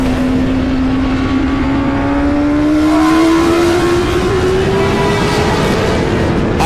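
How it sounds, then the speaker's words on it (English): A race car engine roars steadily along the front straightaway, its pitch slowly climbing as it accelerates, loud and close throughout. "And now onto the front straightaway, Isaac Gaudet."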